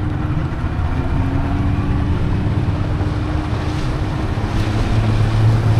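A boat motors across the sea on an island-hopping trip near Marka Island, a steady low engine rumble mixed with rushing water and wind buffeting the microphone, with no talking.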